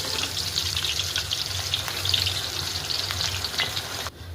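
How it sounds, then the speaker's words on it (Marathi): Onion frying in hot oil for a homemade black masala: a steady, loud, dense sizzle with crackling spits that runs unbroken before cutting off near the end, with no voices. "कांदा आपला भाजायला टाकलेला आहे"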